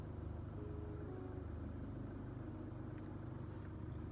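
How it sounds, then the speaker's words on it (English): A 2019 Chevrolet Colorado ZR2 Bison pickup idling inside a shop just after starting, a steady low engine rumble that stays constant and fairly quiet, with no talk. "just started the truck, about to back out of the shop"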